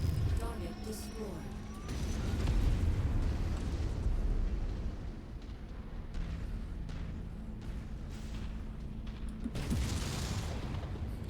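A destroyed target erupts in a heavy explosion in the MechWarrior 5 video game, a deep rolling boom followed by a sustained rumble and mechanical clatter, with a second burst near the end.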